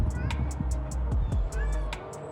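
A dirty house cat about to get a bath meows a few times close by while a person talks over it, with sharp clicking sounds in between.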